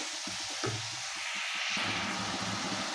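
Spice paste with tomato sautéing in a pan for a small-fish curry, a steady close hiss of frying with soft stirring scrapes throughout, no voices.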